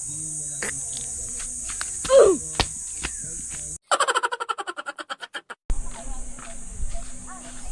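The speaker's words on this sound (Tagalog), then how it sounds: "Rinig niyo ba yung kuliglig?" Crickets chirp at a campsite in a rapid pulsing train of bright trills, loud and close for a couple of seconds, with steady high insect noise and some talk around it.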